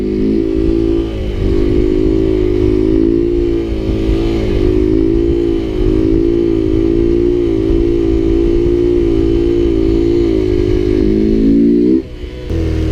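A Honda Grom motorcycle engine holds a steady, loud drone at constant revs through a slow wheelie, dipping briefly near the end.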